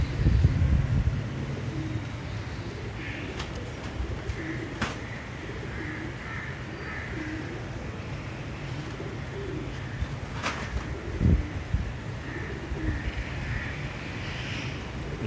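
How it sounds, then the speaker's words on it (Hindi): Double-bodied Deobandi pigeons coo softly and repeatedly in the background, low murmuring calls recurring throughout amid light ambient noise. "डबल बॉडी के कबूतर हैं ये, जैसे कि आप देख रहे होंगे।"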